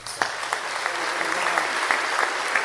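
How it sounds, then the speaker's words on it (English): Concert audience applause, a dense steady roar of clapping with scattered sharp individual claps standing out, sustained and fairly loud throughout. "So let's get a round of applause for them"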